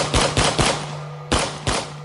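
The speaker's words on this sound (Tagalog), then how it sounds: "Kasunod nito ang napakalinaw na sunod-sunod na putok ng baril." Five sharp, loud gunshots ring out close by, as three quick bursts, a short pause, then two more, with no voices.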